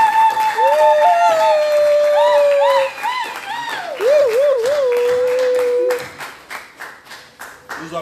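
Congregation at a church honorary title ceremony applauds while a sustained sung or musical tone runs over it, the clapping growing more distinct and rhythmic after the tone fades.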